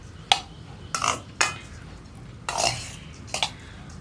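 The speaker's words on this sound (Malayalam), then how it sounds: "ഈ തേങ്ങ ചേർത്തൊന്ന് മിക്സ് ചെയ്യുക." A spoon clinks and scrapes in a bowl in a few separate bursts as grated coconut is stirred into banana puttu flour. The bursts are spaced irregularly, with quiet gaps between them, and no one talks.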